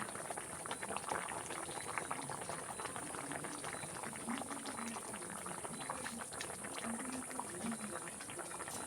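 Curry simmering in a covered pot, a faint continuous bubbling and soft hiss from the stove with no talking.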